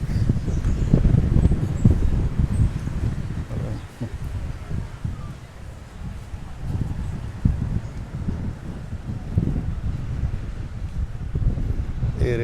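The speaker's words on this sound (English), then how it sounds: "Quite windy today." Strong wind gusting outdoors in Aruba on a sunny day, a low rumbling buffet against the microphone that swells and eases throughout, with no clear voices over it.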